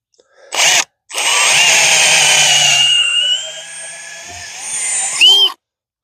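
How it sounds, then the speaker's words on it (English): A close, loud power drill drilling a pilot hole spins up after a short burst, runs steadily for several seconds, dips in pitch as it bites, then revs and stops. "Get my drill sitting right."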